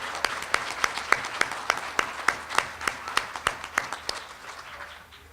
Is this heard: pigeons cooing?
no